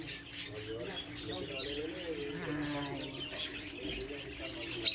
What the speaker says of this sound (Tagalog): Dami nito mga birds